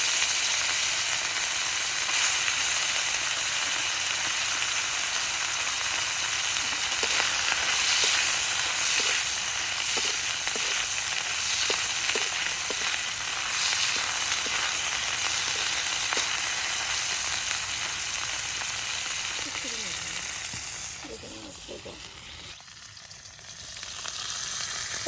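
Chepa shutki, flat fermented dried fish, fries in a pan after dried chillies, giving a continuous loud sizzle with light stirring scrapes that eases slightly toward the end.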